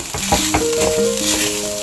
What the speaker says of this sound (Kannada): ಇವಾಗ ಸಾಬುದಾನಿ ಒಗ್ಗರಣೆ ಚೆಂದಾಗೆಲ್ಲ ಮಿಕ್ಸ್ ಮಾಡ್ಕೊಳ್ಳೋಣ.